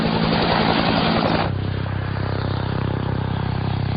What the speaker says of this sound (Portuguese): A primeira coisa que sempre notamos num helicóptero é o som da esteira do rotor principal batendo na esteira do rotor de